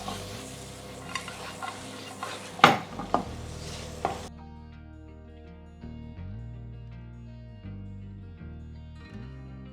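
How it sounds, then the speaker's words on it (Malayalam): Chicken for chicken kondattam sautéed and stirred in a pan. Sizzling comes with scraping and a few sharp spatula clanks against the metal, then gives way to soft melodic music. "ചിക്കനെ നന്നായിട്ടൊന്ന് സോട്ട് ചെയ്യാം."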